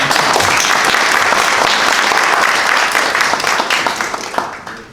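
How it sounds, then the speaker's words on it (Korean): Welcoming applause from the audience at a policy forum on Korean animation content, dense and loud clapping filling the whole stretch before fading slightly at the end. "환영의 박수 부탁드립니다"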